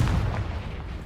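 Confringo fire spell exploding in the Hogwarts Legacy video game on PS4: one loud, deep boom that rumbles and fades over about a second, with no voices.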